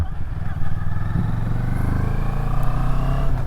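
A motorcycle engine rumbles steadily up close, holding a low throbbing note with slight shifts in revs as it rides along.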